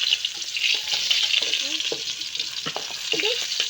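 Sliced eggplant frying in hot oil for dinner, a loud continuous close sizzle with occasional soft clinks and stirring scrapes, and faint distant voices beneath.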